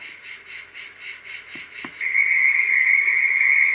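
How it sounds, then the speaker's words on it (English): Cricket sound from a Medisana WL444 wake-up light: a rhythmic pulsing chirp that then changes to a steady, shrill continuous trill, with a couple of soft clicks between. "Crickets."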